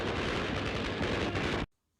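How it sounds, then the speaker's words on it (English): A Bren light machine gun fires one sustained, dense automatic burst, loud and harsh from a wartime-era recording, before cutting off abruptly into near silence. "the gun that helps our men to keep their tails up today is the Bren, a nasty little Spitfire that can spew out bullets"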